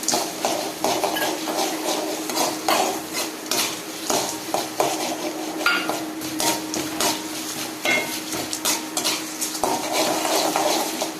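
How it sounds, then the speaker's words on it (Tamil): Peanuts roasting in hot oil in a pan for mint chutney, stirred continuously: a steady dense sizzle with frequent scraping and clinking of a spoon against the metal pan, loud and close throughout, with no talking. "வேர்க்கடலை கொட்டி நல்லா துவைக்கலாம்."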